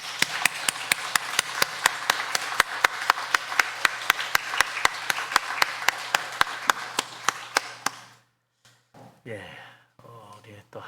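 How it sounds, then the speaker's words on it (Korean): A church congregation claps in unison during a Sunday worship service, a steady, fast rhythmic beat of many hands filling the room for about eight seconds before stopping, followed by faint murmuring and movement. "우리도 힘찬 박수로 하나님께 영광 돌리겠습니다"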